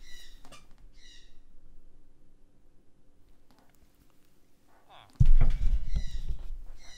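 Sharp bird squawk from a Minecraft mod, landing as a sudden loud burst near the end after quiet, sparse sounds.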